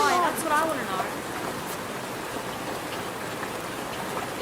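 Rain falls in a steady, even hiss that fills the background, with a brief voice at the start before the patter carries on alone.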